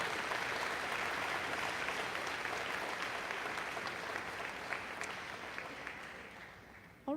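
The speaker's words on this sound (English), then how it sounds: "let's have one more round of applause for our council heads" An audience claps for student council heads at a grades 6-11 prize day ceremony at King's-Edgehill School, a sustained, even round of applause that fades slightly toward the end before a sudden louder sound cuts in.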